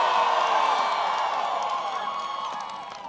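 A large outdoor rally crowd in Sidney, Ohio roars with sustained cheering, whoops and scattered applause, a dense, loud wash of voices that slowly eases off.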